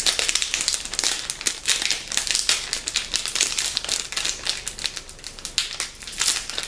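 A crinkly packet being torn and opened, continuous close crackling and crumpling with sharp rustling bursts throughout.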